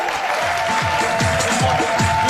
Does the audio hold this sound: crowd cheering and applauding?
yes